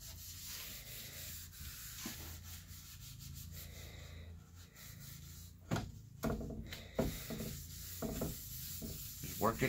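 Grey gel stain being worked into wood grain with a cloth, soft close rubbing and scrubbing strokes in an irregular rhythm, with a few sharper scuffs toward the end.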